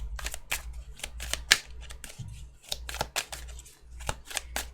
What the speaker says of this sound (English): This deck didn't want to shuffle, like, didn't want to play nice.